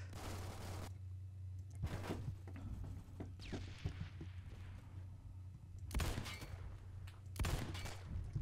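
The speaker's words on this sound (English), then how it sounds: "I'm just randomly shooting and got somebody." An 1858 Carbine firing in the Phantom Forces game, several sharp, loud shots spaced a second or more apart with mechanical clicks and movement noise between them, no talk.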